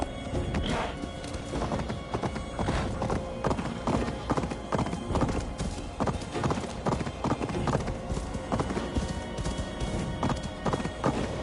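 Horse hooves clip-clop steadily in Assassin's Creed Valhalla, a continuous rhythmic trot with occasional neighs and whinnies over a busy, dense game soundscape.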